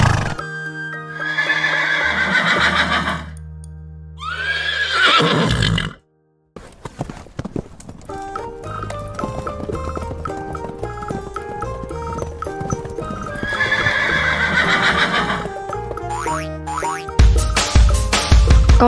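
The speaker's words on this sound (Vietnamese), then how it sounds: "Con ngựa." A horse neighs loudly in long, shrill whinnies, one near the start and another later, between stretches of cartoonish boings and playful music in an animal-naming lesson for children.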